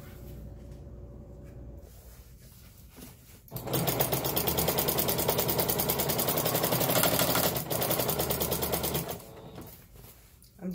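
A sewing machine runs steadily along the hemmed edge of a blackout-lined curtain, a dense rapid whirring stitch close by and fairly loud for several seconds, with quieter pauses before and after.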